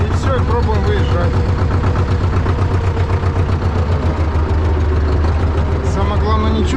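A T-16 MG self-propelled chassis idles in winter with its revs turned down slightly, a steady close rumbling throb that never stops. Someone talks over it.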